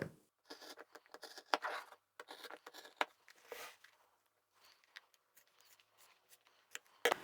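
Scissors snip and scrape through vinyl bag fabric along a marked line, coming as short irregular bursts of crisp cutting with small pauses, close and fairly quiet, with nobody speaking.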